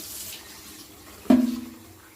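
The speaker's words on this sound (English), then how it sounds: "And pouring the water off." Water sloshes and gurgles briefly as starchy rinse water is poured off grits, a short splash after near-quiet background noise.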